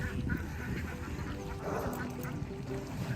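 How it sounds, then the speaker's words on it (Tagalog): A large flock of ducks quacks continuously beside a small creek, a dense overlapping chorus of nearby calls with a voice faintly under it. "Welcome to the duck parade."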